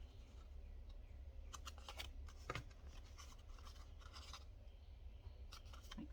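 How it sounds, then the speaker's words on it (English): Scissors trimming the edges of paper journal cards at a craft table, a few soft crisp snips and rubbing scrapes of paper spread across the moment, close and quiet over a low steady background hum. "So I'm going to trim these to make them even."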